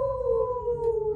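A person imitates a werewolf with a single sustained vocal howl, steady in pitch and slowly falling, loud and close during a family yoga session.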